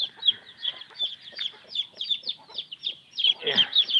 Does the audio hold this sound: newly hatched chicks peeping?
yes